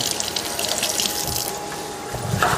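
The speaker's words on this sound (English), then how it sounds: "Rinse our hands off a little bit." Hands being rinsed under a running kitchen tap make a steady, close splash of water, fairly loud and unbroken for a few seconds with no talk.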